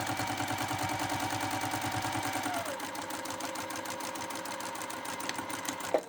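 A Juki sewing machine stitches a quilt-as-you-go seam with a fast, rhythmic mechanical whir close by, running steadily for a few seconds before slowing and stopping, then a faint clunk.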